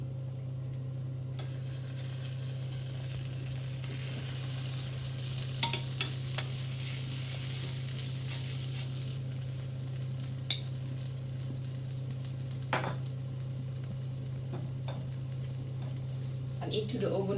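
Chicken sizzles steadily in a pan while being basted with its own juices, a low continuous frying hiss with occasional sharp clicks of a utensil against the pan.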